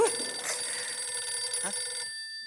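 An office telephone rings with a bright, steady electronic trill for about two seconds, then cuts off, leaving a faint lingering tone.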